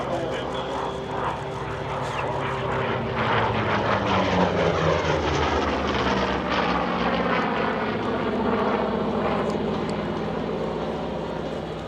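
An F4U-4 Corsair propeller fighter roars overhead at the EAA AirVenture air show, its engine drone swelling and shifting pitch as it passes, loud and continuous for the whole stretch.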